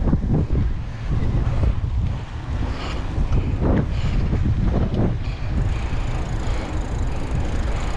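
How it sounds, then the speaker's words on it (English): Headwind roaring across the microphone while riding a bike on a trail, loud buffeting gusts that rise and fall, with no speech. "Headwind."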